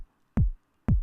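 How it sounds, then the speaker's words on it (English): Two punchy kick drums land about half a second apart, each a deep thump with a quick decaying tail, in a simple house-techno beat for a remake of a song, played alone with silence between hits. "Simple house techno sounding kick."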